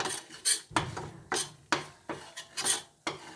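Rice flour being stirred in a metal pan on low heat, a utensil scraping and clinking against the pan in repeated strokes roughly every half second, close and fairly loud, with no talking.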